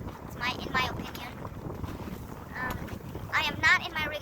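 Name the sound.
wind on a very windy day while fishing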